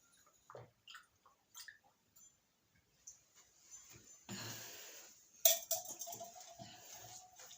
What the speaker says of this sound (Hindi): तब तक पानी पी लूं